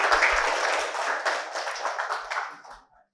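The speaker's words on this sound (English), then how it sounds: "So clap for yourself." A roomful of people at a tech meetup in Bangalore claps together, a close, dense burst of hands that thins out over three seconds and stops.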